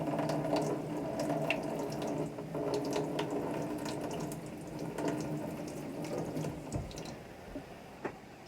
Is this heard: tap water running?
yes